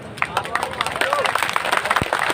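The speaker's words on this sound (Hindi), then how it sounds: "इतने धीरे तालियों से काम नहीं चलेगा" Clapping from a crowd at an election nomination rally, uneven, with scattered sharp claps over the murmur of people talking.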